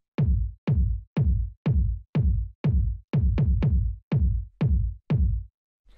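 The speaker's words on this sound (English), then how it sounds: "the first sound I have here is the kick" Boomy lo-fi house kick drum at 122 BPM, about a dozen deep thumps in a steady four-on-the-floor pulse, each with a punchy attack and long low tail, loud and alone.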